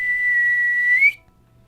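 A game master imitates a whistle with his voice: one sustained, steady whistled tone lasting about a second that rises slightly at the end, clear and fairly loud, with no talk over it.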